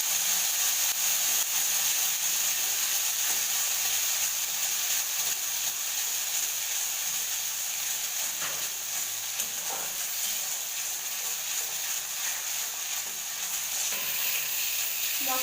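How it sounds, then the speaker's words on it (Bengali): Spice masala with turmeric and salt frying in a pan, a constant soft sizzle and hiss with faint stirring scrapes, fairly quiet and steady with no voices. "মশলাটাকে কষে নেব"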